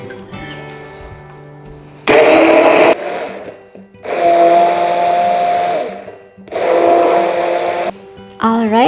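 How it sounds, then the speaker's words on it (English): Loud, close bursts of an electric blender pureeing pineapple slices with pineapple juice, three long whirring runs separated by pauses, with quieter kitchen noises in between. "So now we can blend our pineapples and the pineapple juice till it becomes very liquidy, more like a puree"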